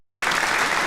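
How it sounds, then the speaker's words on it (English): Audience applause for a trivia winner bursts in after a short silence, a steady dense clapping wash that holds loud to the end. "We're going to give you a little applause there too."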